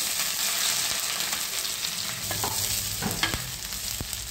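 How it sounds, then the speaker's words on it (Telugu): Chillies, garlic, mustard seeds and cumin fry in a little oil in a pan, a steady close sizzle with some spattering and a few brief scraping stirs, no talk. "ఇదంతా ఫ్రై చేయాల."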